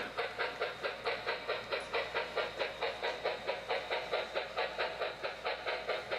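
Steady rhythmic chuffing from the sound system of a model railroad's big articulated steam locomotive pulling a heavy coal train, repeating evenly over a faint low drone, close and moderately loud with no talk.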